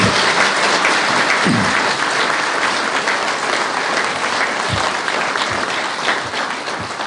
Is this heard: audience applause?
yes